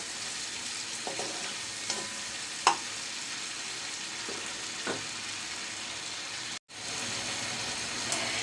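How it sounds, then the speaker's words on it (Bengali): Bitter gourd frying in oil in a pan, a steady soft sizzle throughout with a few light clinks of a utensil, quiet and close, no talking. "তেলের মধ্যে একটু পাঁচ মিনিট বেজে নিচ্ছি শীত করলা"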